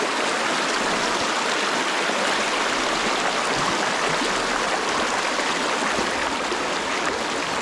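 Creek water flows in a continuous, loud, broadband rush, close by and steady throughout, with no voices.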